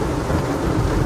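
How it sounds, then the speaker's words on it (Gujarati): Heavy rain pours down outside a car, a dense, steady roar of drumming water with a low rumble underneath, loud and continuous for a brief moment. "જો બહાર કેવો વરસાદ છે"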